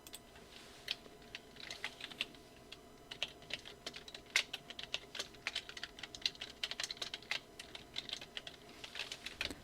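Keys clack steadily on a computer keyboard while text is entered in Photoshop, a quiet, irregular patter of close taps with short pauses.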